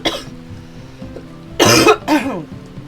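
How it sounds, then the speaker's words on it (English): A sick person with a persistent cold coughs close up: a couple of loud, harsh chesty bursts with a throat-clearing quality, set against faint background music. "This is the never-ending cough,"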